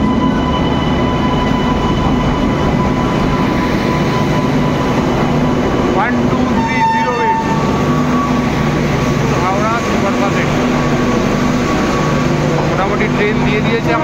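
A train stands at the platform of Jodhpur station with a steady, loud rumble of engines and carriages throughout, brief squeals and clanks rising over it, while people talk nearby.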